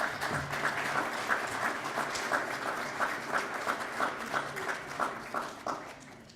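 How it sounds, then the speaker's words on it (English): Audience clapping for a graduate at a Certified Public Manager graduation ceremony, a steady, moderately loud patter of many hands with a slightly pulsing rhythm throughout. "You guys can clap."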